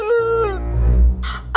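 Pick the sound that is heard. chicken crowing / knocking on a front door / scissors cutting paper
chicken crowing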